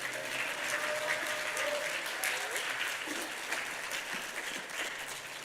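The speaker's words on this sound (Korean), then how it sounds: "하나님께 영광의 박수를 올려드립니다." A church congregation applauds as the pastor comes forward, sustained clapping with voices and a faint tone mixed in, moderately quiet and fairly distant.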